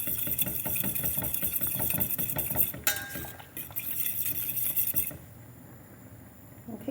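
A utensil stirring beaten organic egg into chicken and sweet corn soup in a pot, with quick rhythmic scraping and clinking over a low steady hum before it goes quieter near the end.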